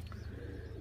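Soft, low pigeon cooing murmurs close by inside a pigeon loft, a brief throaty sound with no talking.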